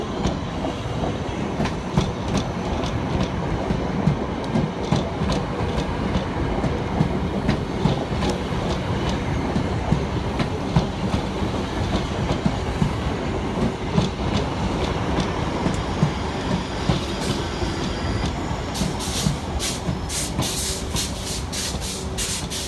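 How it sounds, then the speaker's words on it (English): South Western Railway class 458 electric trains pull into a suburban station, a loud continuous rumble of wheels and rail clatter that rises in squeal and hiss near the end, with no voices. "arriving in the opposite direction is 458421 and 458406, working the 1625 South Western Railway service from Kew Bridge through to London Waterloo"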